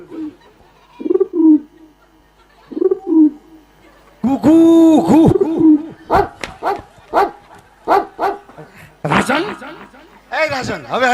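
A person imitates pigeon cooing with repeated warbling, throaty calls during a Gujarati Ramamandal folk comedy performance, interspersed with voices and short sharp barking-like sounds.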